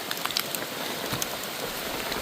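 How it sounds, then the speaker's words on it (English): Steady rain patters on a stretched tarp at a camp, a dense even hiss with scattered louder drops, close and continuous without any talking. "So the rain has begun"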